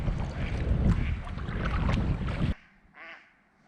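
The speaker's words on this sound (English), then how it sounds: "I've disturbed the birds." On Logan Creek in Door County, Wisconsin, on a frozen winter day, ducks are disturbed by a kayak. Rushing wind and splashing fill the first part, then a single short quack sounds once the noise drops.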